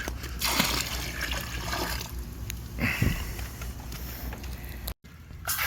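Water from a bucket is dumped into a swimming pool at the deep end after salt cell cleaning, giving splashing and pouring bursts of varying strength, then a brief cut before the watery sound resumes.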